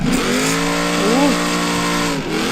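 A car drifting in BeamNG.drive, a steady engine drone with a rising and falling tire squeal as it slides through a turn, loud and continuous throughout.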